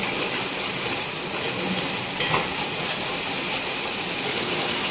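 Tomato and minced meat keema fry in a pan for a bitter gourd dish, giving off a loud, continuous sizzle with a faint clink of stirring partway through.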